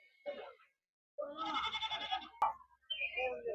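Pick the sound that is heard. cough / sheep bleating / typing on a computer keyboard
sheep bleating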